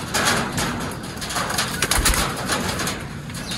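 Pigeons at a racing loft, soft repeated cooing mixed with rustling and background noise, close and fairly continuous.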